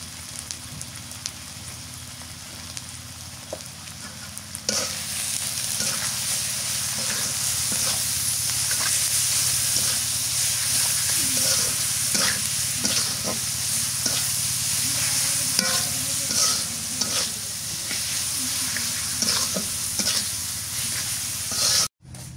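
Bottle gourd curry fries in a pan with turmeric and salt, a steady close sizzle and hiss that starts quieter and swells loudly after a few seconds, with faint stirring scrapes throughout.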